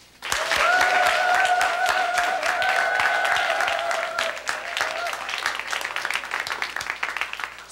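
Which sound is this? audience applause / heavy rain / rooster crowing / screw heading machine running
audience applause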